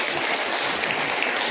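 Crowd applause at a regiment's 86th foundation day ceremony held by the Gaurav Senani Sangathan in Haldwani, a dense, steady wash of many hands clapping at once, loud and unbroken for the whole stretch.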